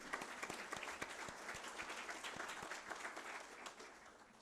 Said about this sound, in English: Please stand up so that you can be applauded for the excellent leadership.